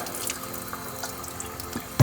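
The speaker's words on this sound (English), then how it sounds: "Now for your tank, we're gonna go ahead and dump all of our dirty water out." Dirty water pours out of a compact floor scrubber's recovery tank in a steady, faint running splash, ending with a louder thump, no voices.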